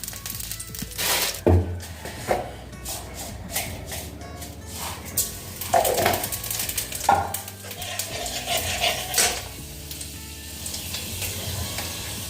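Food sizzles and fries in a pan in a home kitchen, with a steady hiss broken by scraping and stirring strokes of a utensil and occasional clatters, close by and without talking.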